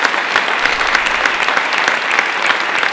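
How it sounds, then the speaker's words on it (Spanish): An audience at a social work conference applauds, a crowd clapping in a thick, even roar of hands that stays loud and steady from start to finish. "otro aplauso para ellos"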